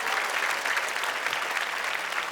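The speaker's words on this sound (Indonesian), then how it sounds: "Tepuk tangan untuk stand up comedy." A studio audience at a televised stand-up comedy show claps in a brief, even burst of applause with a faint crowd murmur.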